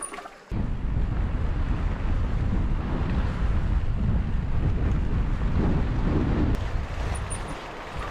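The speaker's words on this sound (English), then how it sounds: "look how much water's in that river" Loud, continuous rushing roar of a river swollen by heavy rain along the Southern Upland Way in Scotland, mixed with gusting wind buffeting the microphone.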